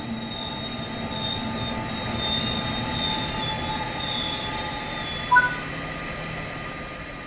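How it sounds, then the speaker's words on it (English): A simulated cab-car train in Train Sim World 6 brakes toward a stop: a steady rail rumble with faint squealing tones, and one brief clunk near the end, with no voices. "Bring the train to a stop now by applying the train brake."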